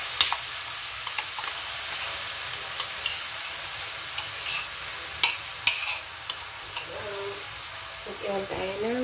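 Tofu sisig fries in a pan with sauce, a steady close sizzle with occasional ticks and scrapes, and a voice speaking near the end.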